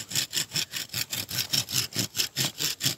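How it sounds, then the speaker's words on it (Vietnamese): A hand saw cuts a ring around a peach tree branch in quick, steady back-and-forth strokes, roughly a dozen close, rasping passes heard alone. "thì em sẽ dùng cái cưa này em khoanh"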